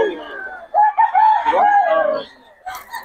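A Boston Sweater rooster crows once nearby, a loud drawn-out call lasting a couple of seconds, with a brief voice at the end.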